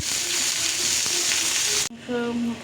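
Beef frying in a pan, a loud steady sizzle with stirring scrapes, briefly cut off and then resuming with bubbling hiss.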